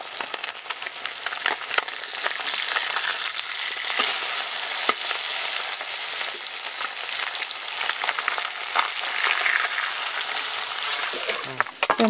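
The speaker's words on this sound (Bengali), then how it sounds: "ওই তেলের মধ্যে মাছগুলো দিয়ে দিচ্ছি।" Small fish frying in hot oil in a wok, a loud, continuous sizzle with crackling spatters and occasional metallic clinks of a utensil against the pan.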